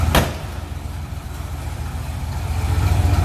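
A 1963 Chevrolet K-10 4x4 truck engine idles with a steady, deep rumble that swells slightly toward the end. A brief sharp noise comes near the start.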